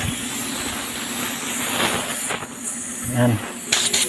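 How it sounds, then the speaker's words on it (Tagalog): A spray gun hisses steadily, close up, as top coat paint goes onto a Toyota Vios panel during a scratch retouch, with a brief spoken word and a short low thump partway through. "I-spray na natin."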